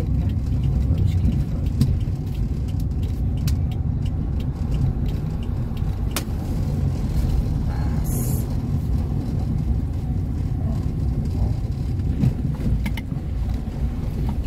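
A car drives along a neighborhood street toward the supermarkets, giving a steady, close low engine and road rumble with wind noise throughout; a voice briefly speaks over it.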